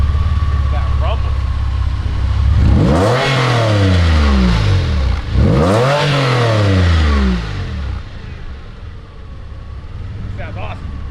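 A Porsche 911 with a new performance exhaust revving up twice in a row, each rev climbing to a loud deep roar then falling back to a rumbling idle, close by, with a faint voice nearby.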